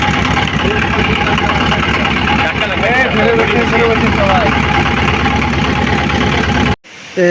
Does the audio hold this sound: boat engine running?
yes